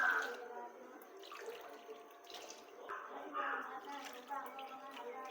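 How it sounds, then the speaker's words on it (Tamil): Water poured from a tumbler into wheat flour in a vessel, a light splashing trickle that comes in several short pours, fairly quiet, with some speech mixed in. "ஒரு டம்ளருக்கு அஞ்சு டம்ளர் தண்ணி போட்டுக்குவோம்"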